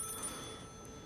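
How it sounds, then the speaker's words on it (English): A telephone rings in the night, waking a sleeper during paranormal investigation footage; a short electronic ring with steady tonal lines, moderately loud and alone. "So this guy gets woken up by a phone ringing."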